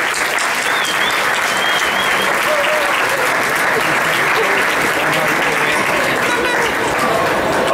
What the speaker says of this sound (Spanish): Un aplauso, que se acerque.